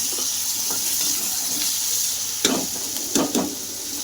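Whole garlic cloves with tomatoes fry in a pan, giving a steady soft sizzle with a few louder clinks and scrapes of stirring near the end.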